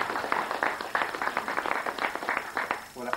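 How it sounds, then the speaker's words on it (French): An audience claps at a live magic act as a woman is invited onstage for a pin routine, a steady run of close hand claps lasting a few seconds, with a brief voice near the end. "On l'applaudit."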